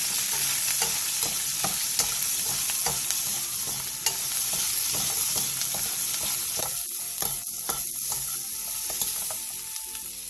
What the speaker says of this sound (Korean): 팬에 기름을 두른 뒤 꽈리고추와 소금 1티스푼을 넣고 센 불에서 1분